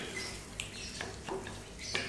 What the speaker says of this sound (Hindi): इसे अच्छे से मिक्स करना है और इसे भी हमें भूनना है